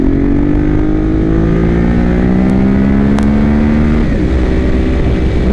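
A Ducati Monster 821 Testastretta motorcycle engine revs loudly and close, its pitch climbing steadily through the gears while riding, then dropping and rising again, with constant wind and road noise underneath.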